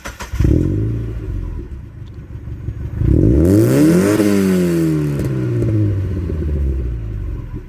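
Mazda MX5 roadster with a modified exhaust on the original catalysed line, revving hard several times, rising and falling engine tones with a throaty rasp, close and loud, no voices.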